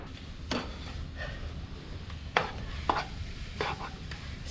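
Scrambled eggs cook at a seaside campsite, with a utensil scraping and stirring in the pan in several distinct strokes over a faint sizzle and outdoor background noise.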